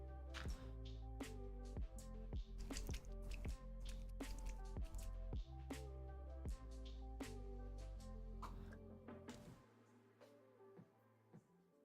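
Screaming Skull paint glugs and drips out of a small bottle in a quick series of close wet squishes and drops, tapering off into a few scattered drips near the end, with no talk.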